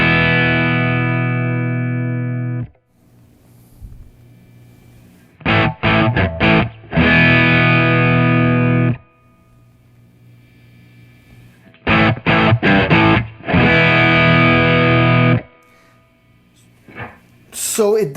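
An electric guitar through a Caline CP-70 overdrive pedal set to half drive plays loud, bright, gritty chords, with a long ringing chord followed by two bursts of fast strummed riffs separated by near silence.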